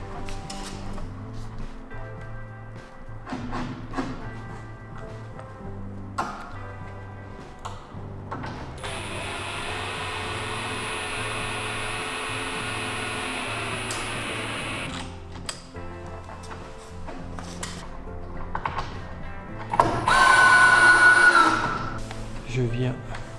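A powered screwdriver whirs in bursts while fastening panels of a flat-roof garden shed, one long steady run in the middle and a louder burst near the end, with mechanical clicks and a person talking throughout.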